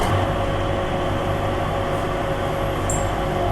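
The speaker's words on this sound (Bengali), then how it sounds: "it's an automated train of course" A free automated airport train running to Terminal 3 gives a steady interior rumble with a constant electrical hum, even and unbroken from start to finish, with no talking.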